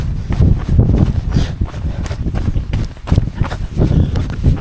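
Strong wind roars across an exposed winter mountain trail on Pen yr Ole Wen during a run, a loud continuous rumbling gust noise buffeting the microphone, with faint footfalls mixed in.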